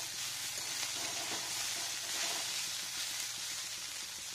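Cornflakes and vegetables frying in a pan, a steady close sizzle with soft stirring scrapes throughout, no voices.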